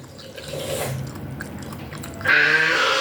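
Chewing leftover food in a mukbang, soft wet close-mic mouth sounds with small squishes and clicks, getting louder and crunchier toward the end.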